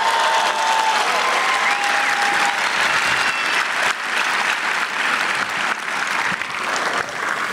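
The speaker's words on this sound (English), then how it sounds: "How about another round of applause for that outstanding performance?" Applause fills a graduation ceremony crowd, dense steady clapping throughout with no break, loud and close, a broad audience ovation with a faint murmur underneath.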